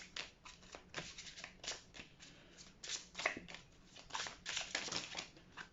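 Tarot cards handled and laid down on a table in a series of soft, close shuffling and slapping sounds, brief papery bursts with short pauses between them.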